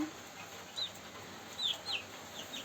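Young Amrox chickens recently moved out of a brooder into a hay-lined pen, giving a few soft, short clucks and peeps at a distance over quiet background hiss.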